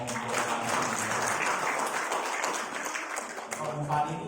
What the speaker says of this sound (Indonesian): Tepuk tangan buat om-om.